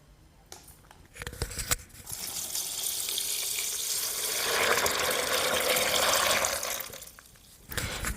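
Water pours steadily into a bowl of dried peanuts, a continuous splashing fill that grows fuller and louder midway before tapering off, with a few knocks at the start and end.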